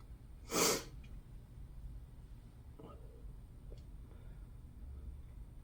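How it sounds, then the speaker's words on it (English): A single sharp, breathy sniff or snort near the mic, then faint scattered ticks and quiet background noise. "I'm like sniffling"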